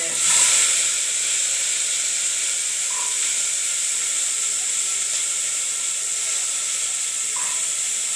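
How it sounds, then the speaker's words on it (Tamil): Chilies, onion and garlic frying in hot oil on a home stove give a steady, even hiss, close and unbroken, with a couple of faint soft clicks. "நல்லா பொரியுது பாருங்கள் மிளகாய் சாம்பார் வெங்காயம் பூண்டு"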